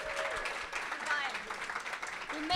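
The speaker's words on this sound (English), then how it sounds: "Can everyone give a huge round of applause" Audience applause at a meetup talk: a steady wash of clapping from the room, fairly faint and distant, lasting throughout, with a voice speaking briefly over it.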